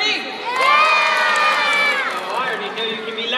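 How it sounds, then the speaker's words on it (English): A crowd of children shouts and cheers loudly and continuously at a Disneyland princess story time, excited voices overlapping in a sustained roar. "we all have to be clap and we cheer and we show her how excited we are"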